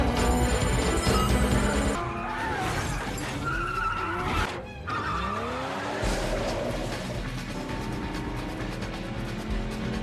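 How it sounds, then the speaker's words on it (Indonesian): Cars race and ram each other in a Fast and Furious 4 chase, with loud engine roar, tire squeals and a crunching, shattering impact midway, the action dense and close throughout. "Terlihat mereka saling menabrakkan mobilnya hingga lawan Dom terguling jatuh dari jembatan"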